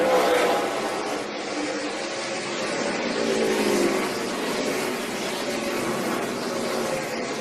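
Stock race cars in the 2011 Federated Car Care 200 accelerate out of turn four on a green-flag restart, a dense, steady roar of several engines at moderate distance with no voices.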